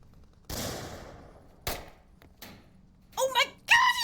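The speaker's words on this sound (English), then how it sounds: "They're all shooting at him." Gunfire in the VR shooter Onward during a competitive match: a sharp burst of rapid shots followed by single cracks, then a couple of short bursts of sound near the end.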